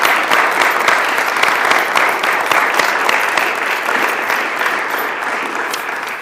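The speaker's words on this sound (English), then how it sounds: "let's give them all one more round of applause" Steady, loud round of applause from a small audience at a high school National Honor Society induction ceremony, dense clapping sustained throughout without talk.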